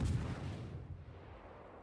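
Naval guns on the warship Vauquelin in a naval combat video game fire armour-piercing shells, a single heavy boom at the start that rolls off into a fading rumble, close and loud.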